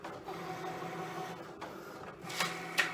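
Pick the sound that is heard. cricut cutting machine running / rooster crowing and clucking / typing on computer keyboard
cricut cutting machine running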